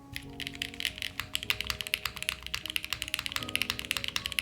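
Fast typing on a Jris 80 TKL keyboard fitted with dumbbell gaskets, a dense, close run of soft clacky keystrokes with irregular rhythm and no talk.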